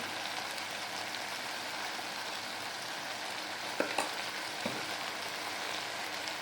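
Steady sizzling of tomatoes sautéing in a pan with salt and turmeric, a continuous crackling hiss with a few sharper pops and clinks of stirring.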